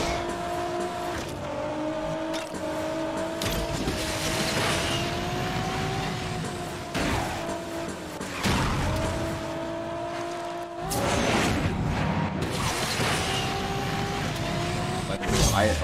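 A Maserati races through Asphalt Legends, its steady engine drone shifting pitch with gear changes and acceleration, with occasional whooshes and impacts, under continuous talk.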